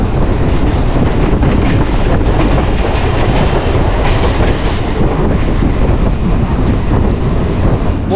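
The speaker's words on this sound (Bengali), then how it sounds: "আর কিছুক্ষণের মধ্যে ট্রেন ঢুকবে, অনেকটা দূর যেতে হবে 2 নম্বর প্ল্যাটফর্মে আমার।" A local train rumbles steadily into a railway station platform, a loud, continuous roar of wheels and rail noise with wind buffeting throughout.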